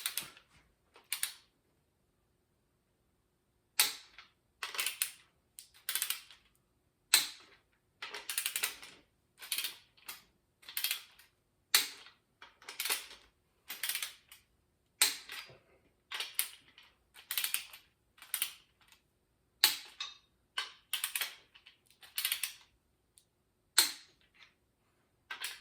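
A torque wrench clicks while bolts are tightened during engine assembly: quiet, close, repeated short bursts of sharp ratcheting clicks separated by brief pauses.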